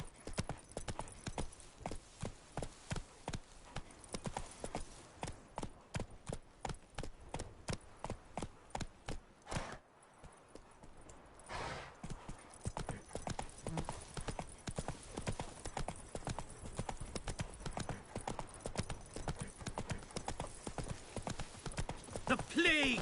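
Horse hooves galloping in The Witcher 3: Wild Hunt, a steady, close, rhythmic clip-clop that breaks off briefly midway and then resumes at a brisk pace.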